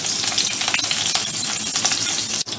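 Ginger and garlic frying in hot cooking oil, a dense, loud, continuous sizzle with crackling pops, close and uninterrupted.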